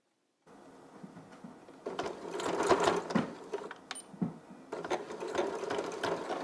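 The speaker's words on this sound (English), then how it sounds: "And we're going to sew right along this edge." A sewing machine stitches along the edge of a fabric tortilla warmer, running in steady bursts with a short pause midway, close and fairly loud, with no voices.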